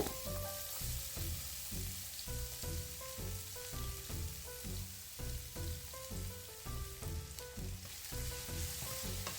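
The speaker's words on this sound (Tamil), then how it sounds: "சின்ன சீரகம் படபடண்டு பொரியக்குள்ளே வெட்டி வச்சிருக்கிற வெங்காயத்தை சேர்த்துக்கொள்ளுங்க" Cumin seeds crackle and onions fry in hot oil in a pan for a squid egg curry, a steady close sizzle with rhythmic stirring scrapes and pops, with no talk.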